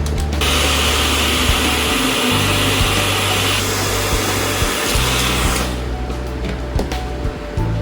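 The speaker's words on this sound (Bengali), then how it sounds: "খুব ভালো মানের ড্রায়ার ব্যবহার করতে হবে" A high-quality electric dryer blows steadily to dry a polymer stamp seal print, a loud continuous whooshing roar with a low motor hum that holds throughout, then thins slightly toward the end.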